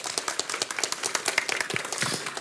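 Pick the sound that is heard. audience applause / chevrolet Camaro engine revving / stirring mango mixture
audience applause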